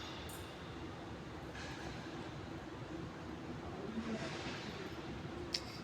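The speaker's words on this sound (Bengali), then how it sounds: "আমি এটারে লাগেজ ট্রেন বলি।" A baggage tractor pulling a train of luggage carts drives off across the apron at Dhaka's Hazrat Shahjalal International Airport Terminal 3, making a steady broadband rumble and rattle with a few brief clanks near the end.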